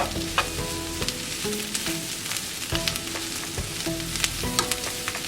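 Garlic and onions fry steadily in a pan on the stove for an Italian meat and tomato sauce, a close, continuous sizzle with occasional stirring clicks and crackles.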